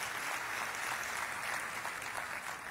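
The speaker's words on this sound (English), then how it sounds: "let you take a round of applause for yourselves in this regard" Audience applause at a Columbus Chamber annual gathering, a steady even wash of many hands clapping at moderate level throughout, with no voices over it.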